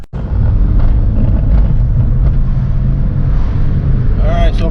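A 2006 Chevy HHR on a test drive after the intake was refitted, its engine a steady low rumble with road noise from inside the cabin, holding even throughout.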